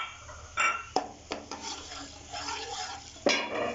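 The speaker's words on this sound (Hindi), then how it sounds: "हम फ्राई करेंगे ऑयल के अंदर ताकि अच्छी सी खुशबू आने लगे।" Fennel seeds fry in oil in a pan while a spoon stirs and scrapes, giving a few sharp metallic clinks over a soft, continuous sizzle.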